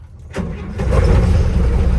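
A 1969 Ford F100 pickup engine cranks briefly and fires, then settles into a loud, rough idle rumble that holds steady to the end, with no talking.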